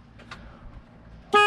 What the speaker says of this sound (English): horn.